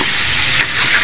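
Tomatoes sauté in a pan for shrimp sinigang, giving a loud, close, steady sizzle with a brief scraping stir partway through.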